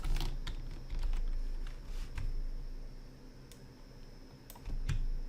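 Computer keyboard keys tapped while pressing shortcut keys in After Effects, a loose run of close, crisp clicks with pauses between bursts and a couple of firmer presses near the end.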